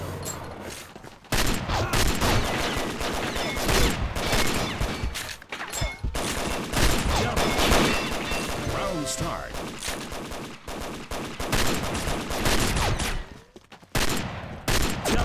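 Anaconda revolver with an 8-inch barrel firing in a shooter video game, loud repeated gunshots in rapid bursts over a dense backdrop of other game gunfire and effects, with brief pauses between volleys.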